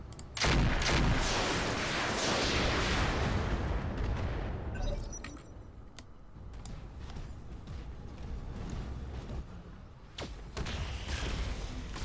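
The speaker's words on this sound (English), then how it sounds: "And we'll just fire on this guy." Gunfire and heavy explosive blasts from the video game Roguepoint roll loudly and continuously, then ease into scattered shots and crackles in a dense battle soundscape.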